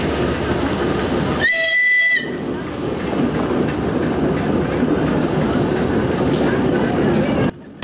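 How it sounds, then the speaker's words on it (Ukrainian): Electric train on a narrow-gauge line rolling into an outdoor market laid out between the rails, with a loud horn blast followed by a continuous close rumble and clatter while people talk over it. "Сюди заїжджає електричка."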